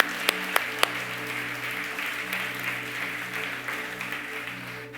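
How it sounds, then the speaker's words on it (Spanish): A church congregation applauds in a steady, dense wash of clapping that runs the whole stretch, with a few sharper claps standing out near the start and a low sustained hum underneath. "Dale fuerte ese aplauso al Señor."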